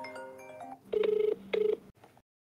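A phone ringing with an incoming call: two loud, close electronic ring bursts with a rapid warbling pulse, following a short stretch of tonal melody.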